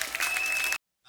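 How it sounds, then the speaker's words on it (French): A church congregation claps for Jesus in a short, dense burst of applause with a sustained tone underneath, cutting off abruptly into silence. "Applaudissons pour Jésus."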